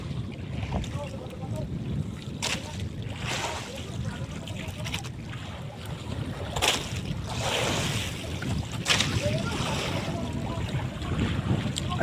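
Strong wind and heavy waves surround a small fishing boat at sea, a constant rough roar of wind buffeting the microphone with sloshing water and hull knocks rising and falling throughout.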